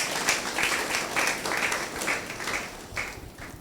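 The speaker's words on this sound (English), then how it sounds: "a round of applause for him" Audience at a townhall panel discussion applauds a moderator being introduced, a short burst of moderate clapping in uneven waves that fades toward the end.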